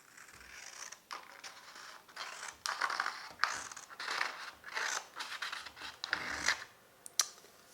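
Scissors cut freehand through paper for a book craft, giving a series of crisp snips and crunchy slicing strokes at an uneven pace, close and fairly quiet, with no talking.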